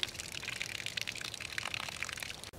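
Water runs steadily from a siphon-fed hand washing station, a soft continuous splashing and trickling at moderate distance with no voices.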